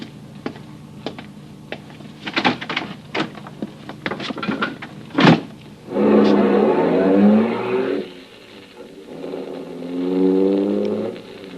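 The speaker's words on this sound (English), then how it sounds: "And then a car drove up." A car engine in an old-time radio drama rises and falls in two swells as the vehicle drives up, following a series of sharp clicks and knocks.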